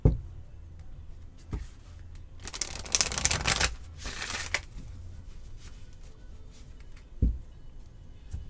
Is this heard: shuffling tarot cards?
yes